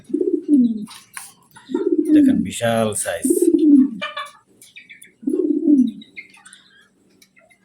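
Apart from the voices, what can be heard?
Modena pigeons cooing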